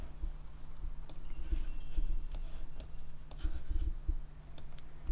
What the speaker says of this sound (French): Et cliquer sans bouger la souris.